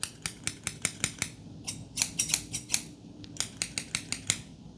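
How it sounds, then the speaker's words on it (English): Scissors snip repeatedly in quick bursts, sharp metallic cuts close up in a quiet room, grouped in short runs with brief pauses. "We have 2 more scissors, different ones."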